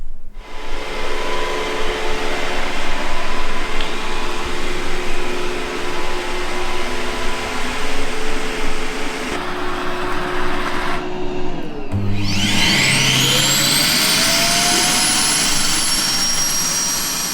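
A robot vacuum cleaner hums and whirs loudly and steadily in a home, then its tone shifts and a rising electronic whine sweeps upward as it heads back to its docking station.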